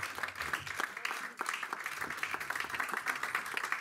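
A church congregation applauds continuously, a dense patter of many hands clapping at once, fairly steady and moderately loud throughout.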